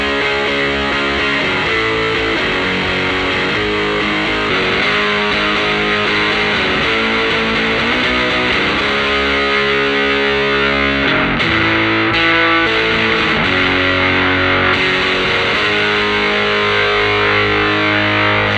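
A heavily distorted electric guitar run through an impulse-response amp simulation plays a dense, continuous riff for around eighteen seconds, thick and loud throughout with changing chords and a brief thinning midway, with no voices.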